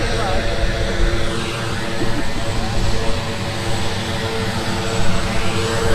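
A GDF Skyvan propeller aircraft arriving at Eugene F. Correa International Airport at sunset, its steady loud engine drone filling the scene with a broad continuous roar, people faintly talking beneath it.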